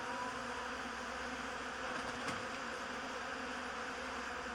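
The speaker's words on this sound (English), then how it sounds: "Them bees make their way back to them hives" Honeybees buzzing close around their hives in a backyard beekeeping setting, a steady dense hum of many insects with one brief sharp click midway, no talk.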